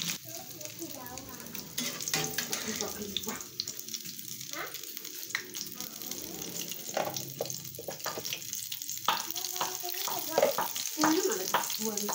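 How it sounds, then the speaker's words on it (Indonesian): Shrimp and egg fritters bubble and sizzle in hot oil, a steady loud frying hiss running throughout with occasional stirring and scraping sounds mixed in. "Ini tadi gorengan yang pertama kita masukkan lagi supaya kurang ini ya, kurang kering."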